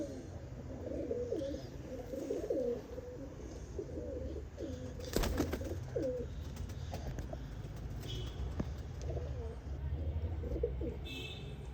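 Champion hobby pigeons kept for tournament flying, not for sale, coo steadily in low rolling phrases nearby, a continuous soft burble with occasional faint voices in the background.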